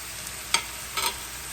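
Beef masala being stirred in a pan: two short scraping strokes of a spoon against the pan, the second longer, over a quiet, faint background.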